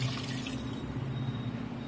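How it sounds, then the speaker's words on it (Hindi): Water being poured from a glass into a spicy Bengali-style chicken curry masala, a steady close splashing and trickling that runs continuously through the short stretch with no talk. "तो ये पानी को हमने डाल देना है।"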